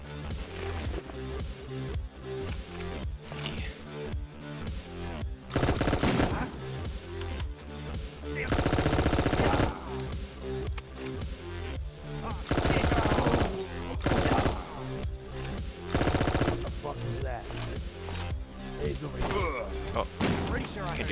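Shotgun blasts in a video game firefight, heard as several loud, broadband bursts spaced a few seconds apart over a steady rhythmic game soundtrack.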